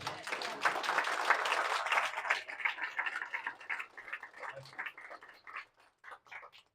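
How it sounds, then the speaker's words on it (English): A small audience gives a brief round of applause after a presentation, fairly quiet and moderately distant, dense at first and then thinning into scattered, sparse claps over several seconds. "Let's first give a round of applause for one presentation."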